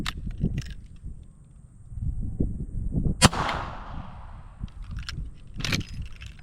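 A single sharp crack from an 1860 Spencer carbine at an outdoor range, close and loud with a short rolling echo, set among rustling, clinking handling noise.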